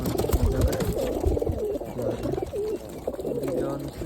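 Domestic pigeons in a home pigeon setup coo in repeated, wavering low calls over a steady background hum, with a few soft knocks mixed in.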